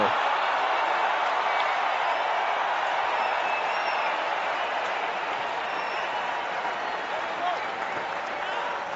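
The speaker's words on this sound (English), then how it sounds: "The crowd are into it, the captain's into it." Cricket crowd in a stadium cheering and applauding a boundary, a steady loud roar of massed clapping and shouts that keeps going and eases only slightly toward the end.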